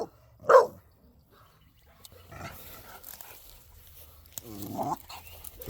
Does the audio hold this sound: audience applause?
no